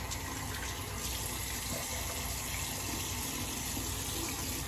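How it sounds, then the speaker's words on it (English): Cold tap water runs steadily into a sink for a rinse during a wet shave with a 1960 Gillette Fatboy razor, a continuous close, even splashing gush with no talking. "Quick cold water rinse"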